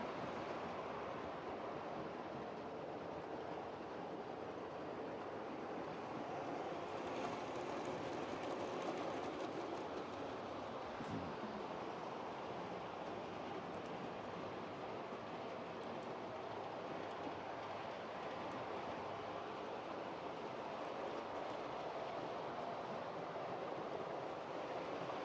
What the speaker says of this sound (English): And I'll get these trains going